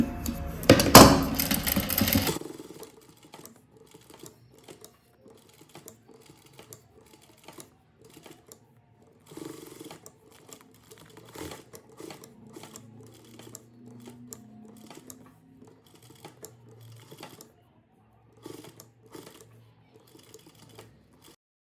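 A sewing machine stitches a flower design on fabric, with a short loud run at the start followed by slow, intermittent bursts of clattering needle action and pauses as it works around curves.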